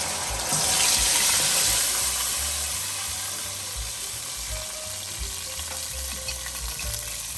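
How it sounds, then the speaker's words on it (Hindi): Yogurt-marinated chicken hitting hot cooking oil in a karahi for a Hunza-style chicken karahi, a loud burst of sizzling that peaks early then settles into a steady close crackle with faint scraping, no talk. "दही में जो हमने चिकन मैरिनेट किया है वो ऐड कर देंगे, दही समेत ऐड कर देंगे पूरा।"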